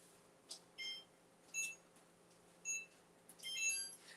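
A kitchen oven timer gives repeated short, clear electronic beeps in a few spaced bursts, with a quicker cluster of beeps at the end, over a low steady hum in a home kitchen where biscuits bake at 450 degrees.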